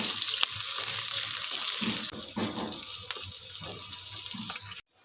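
Chopped onion fries in oil over a gas flame, a continuous hiss with occasional stirring knocks, moderately quiet and ending abruptly.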